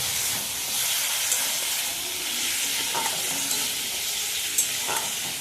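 A spice paste with turmeric, made for jackfruit curry, sizzles steadily as it is stir-fried, a close and continuous hiss with a few faint scrapes of the spoon and no talking.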